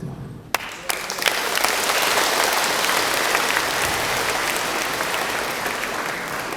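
A congregation at a Catholic charismatic revival service bursts into applause after a brief moment, the clapping building quickly and staying full and steady throughout.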